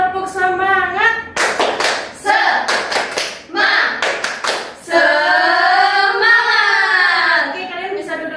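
In an Indonesian classroom, children clap a rhythmic spirit chant in quick patterned bursts, their voices shouting and chanting together between and over the claps.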